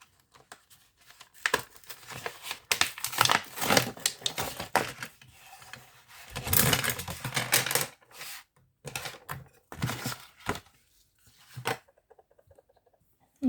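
Packaging around a pencil sharpener is torn and crinkled open, a busy run of rustling, crackling and clicking handling noises that comes in bursts and then thins out into sparse taps. No voices.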